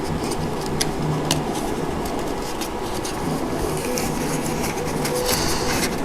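A new 3D printer runs loudly with its rear fan whirring, a steady dense mechanical hum and drone with faint clicks and ticks over it, close and continuous, no talk.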